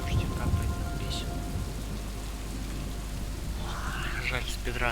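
Steady rain falls in the video game Superliminal, a dense, even hiss of drops that continues without a break, with a brief brighter patter near the end.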